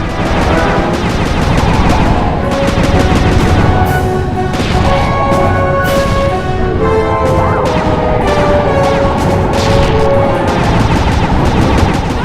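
Gunfire in the video game Sly Cooper 2, a dense, loud barrage of shots and crashing impacts layered over steady game music, continuous throughout with no pause.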